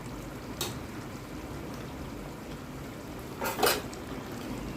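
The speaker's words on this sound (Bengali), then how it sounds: "এবার এর মধ্যে চিংড়ি মাছটা মিশিয়ে দেবো।" Prawns being stirred into a jackfruit and potato curry in a pan, with a soft continuous cooking hiss and a couple of brief metallic spoon scrapes against the pan, quiet and close.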